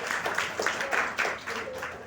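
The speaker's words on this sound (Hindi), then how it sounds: "ताली बजा दीजिए इनके नाम से।" An audience claps in recognition of Savitribai Phule at an International Women's Day address in Singrauli, a short rippling burst of many hands, moderately loud and even throughout.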